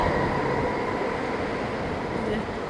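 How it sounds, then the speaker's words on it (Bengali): A Vancouver SkyTrain rolls past, a steady, loud rumble and rush of rail noise that fills the scene from start to finish with no break. "স্কাই ট্রেন চলে গেল"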